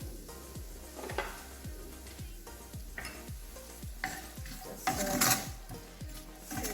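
Chopped small onion dropped into a hot pan for tikka masala sauce, sizzling steadily up close while a utensil scrapes and stirs in regular strokes, with a louder burst of frying toward the end.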